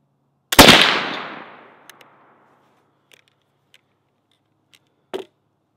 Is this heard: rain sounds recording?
no